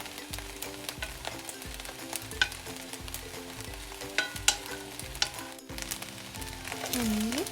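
Eggs frying in a pan of fried rice with spoons stirring and scraping through it, a steady sizzle broken by repeated clanking strokes, close and fairly loud, with no talk.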